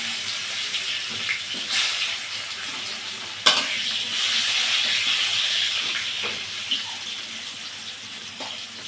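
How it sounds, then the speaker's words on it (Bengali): Potatoes and kakrol (spiny gourd) frying in hot oil, a steady bright sizzle with occasional sharper pops and stirring clicks, close and continuous, no talking. "এবার আমি কারকোনার আলুটা তেলে ভেজে নেব দেখুন রেসিপিটা কী তেলটা গরম হয়ে গেছে এবার আমি এগুলো ছেড়ে দেবো"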